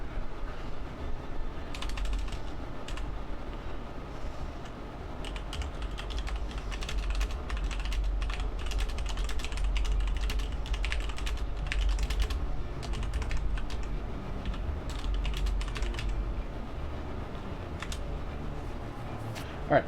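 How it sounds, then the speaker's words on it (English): Rapid, steady clatter of keys on a computer keyboard as a message is typed, close and continuous for about twenty seconds over a faint low background hum. "Let me actually finish typing up a message."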